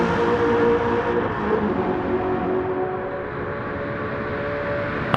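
The Red Devil Camaro race car by Stielow Engineering accelerates hard in fifth gear down a straight, a loud sustained engine roar with a slowly rising pitch throughout.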